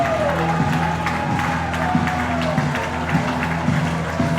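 Baseball crowd cheering and applauding at a ballpark during a tense two-strike count in the late innings, a steady loud wash of claps and shouts with a few sharper bursts, rising as the crowd gets into it.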